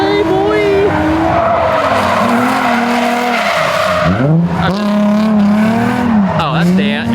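A drift car enters a corner deep and slides through it, tires squealing loudly in long, sweeping pitch bends over a steady engine roar, with excited voices talking and cheering throughout.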